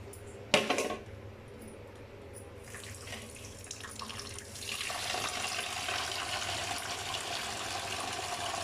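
Tap water runs into a container for washing sesame seeds. A sharp knock opens it, then a thin stream starts and swells into a steady, fuller gush that continues close by to the end, with no talking.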